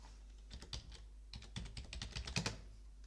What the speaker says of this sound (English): I'll just type it out there.